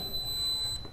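A workout interval timer gives one steady, high electronic beep lasting under a second. It rings out clearly over faint room noise.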